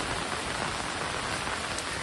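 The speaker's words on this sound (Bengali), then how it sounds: "আর এই ঝিরঝিরি বৃষ্টি" Light drizzling rain falls steadily, a dense continuous patter of drops on surfaces, close and even throughout with no voices.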